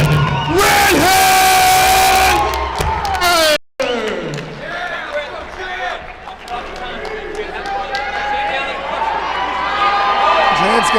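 At a local MMA event in Arkansas, a packed crowd roars, yells and whoops loudly before a bout, with a sudden brief cutout, then continued cheering and shouts under an announcer's voice.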